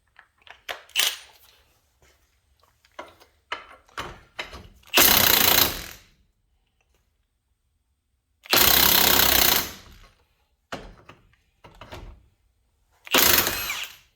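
Bursts of a pneumatic impact wrench remove the 24 mm bottom ball joint nut on a 2011 Ford Transit Connect van, with three loud sustained runs separated by silence and scattered metallic clicks and clanks of tools nearby.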